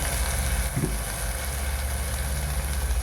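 Green chillies sautéing with salt in a pan, a steady broadband sizzle with a low background hum and one brief soft knock, continuous and close throughout.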